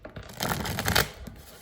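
A deck of cards shuffled by hand close by, a short riffling burst of dense papery flutter that swells and fades, quiet and alone.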